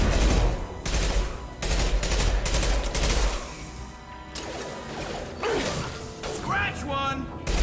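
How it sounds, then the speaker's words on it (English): Gunfire erupts in the Mass Effect 2 video game as repeated loud bursts of weapon shots alternate with brief pauses, joined by mechanical clatter and a shouted voice partway through. "Under heavy fire!"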